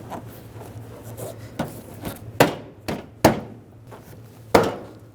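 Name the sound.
tapping front bumper molding into place on a Dodge Dart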